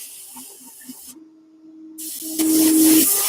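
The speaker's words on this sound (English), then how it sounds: "you'll find that overspray goes in places you never thought it would go" Paint spray gun laying down a coat with overspray, a steady close hiss that cuts out briefly and then returns louder and rougher toward the end.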